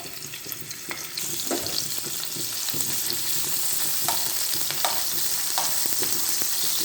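Onion and green chili dropped into hot oil on a griddle, a steady close sizzle and hiss with occasional stirring scrapes and clicks, no voices.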